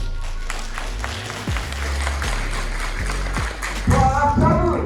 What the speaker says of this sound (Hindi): अगर अच्छी बातचीत कर रहे हैं तो जोरदार ताली बजाकर दिखाओ